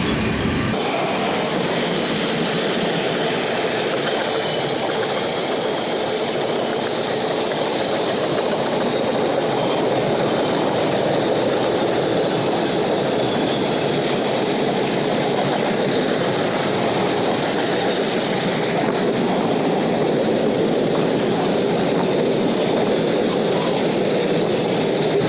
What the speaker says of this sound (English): This train was long and did take a bit of time to go by